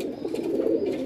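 A red pigeon from a champion Multan line coos in a low, soft, continuous murmur, close and alone.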